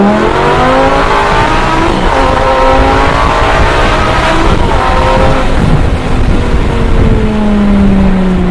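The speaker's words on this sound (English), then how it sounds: "first gear is extremely tall, so I'm in first gear right now, 40 miles an hour, punch it." A Lamborghini engine screams up through the revs in one long, loud pull in first gear from 40 mph, its pitch climbing steadily and close by.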